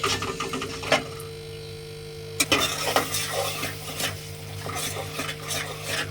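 Chili powder and salt being stir-fried in a pan for a shrimp and Malabar spinach dish, with repeated sharp metallic scrapes and clanks of the spoon over a low sizzle and a steady background hum.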